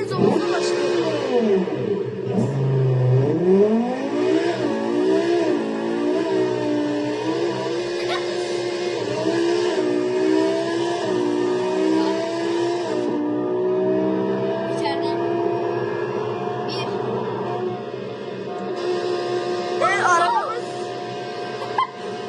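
A Ferrari engine revs and roars in the driving game BeamNG.drive, rising and falling in pitch with shifting gears throughout, while a voice talks alongside.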